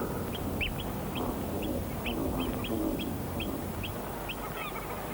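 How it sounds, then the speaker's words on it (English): Oystercatchers on St Kilda give a rapid series of shrill piping calls, about a dozen sharp notes over steady outdoor background noise, at moderate distance with no talk. "soon retreats before the noisy onslaught of both birds at once"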